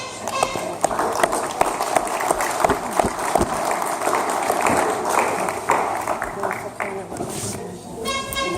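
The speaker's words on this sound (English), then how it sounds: "if we could have a round of applause, please, for Lion Andrew and his entourage" An audience at a roast claps in a dense, sustained burst of applause that runs throughout, with scattered voices and crowd noise mixed in.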